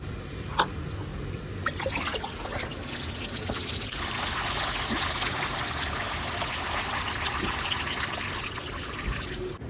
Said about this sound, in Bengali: এখন এমনভাবে জল দেবো যেন নিচ দিয়ে জলটা বয়ে বেরোয়